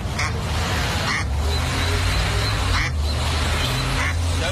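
A mother duck quacks repeatedly for her ducklings trapped in a storm drain, the calls loud and close over steady rumbling background noise that runs throughout.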